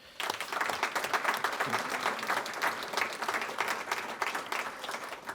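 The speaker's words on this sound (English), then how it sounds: "So a round of applause, too, for everybody who is making this degree possible and making it thrive" Audience at a MaineMBA alumni awards and business forum breaks into continuous applause, a full even roar of many hands clapping for the people behind the degree, with no speech over it.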